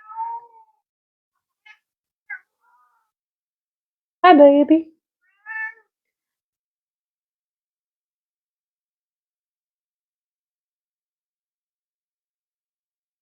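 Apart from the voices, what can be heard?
cat meowing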